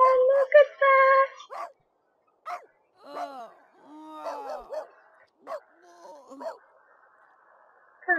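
Cartoonish puppies in The Sims 3 yip, bark and whimper in a run of short, close cries, with a brief pause partway through and fainter squeaks and whines toward the end.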